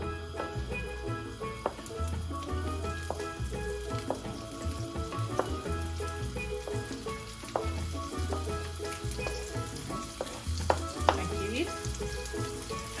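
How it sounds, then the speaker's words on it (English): Chopped onions and peppers sizzle in a hot pan for Trinidad pepper shrimp, a steady close frying hiss with scattered crackles and soft stirring scrapes, no talking. "Now we are throwing our chopped onions, and our chopped peppers,"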